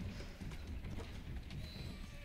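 Horse hooves clip-clop steadily on a street in the Assassin's Creed Syndicate video game, a fairly quiet, continuous patter with game ambience around it.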